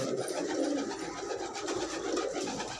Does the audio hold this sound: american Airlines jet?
no